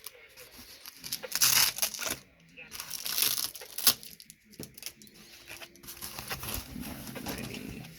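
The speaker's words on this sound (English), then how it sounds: "Let's go ahead and unwrap this." Plastic and paper packaging from a prize item is crinkled and torn open nearby, in irregular bursts of rustling with short pauses in between.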